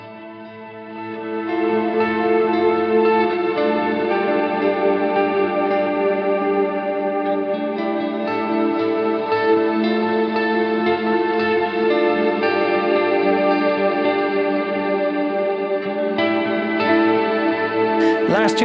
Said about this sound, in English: It's just the swells and the kind of the clean reverb that you get from it.